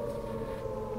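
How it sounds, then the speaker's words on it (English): Wailing warning sirens drone steadily throughout, a sustained, even tone that neither breaks nor fades, heard alone without speech. "Those sirens, what are they for?"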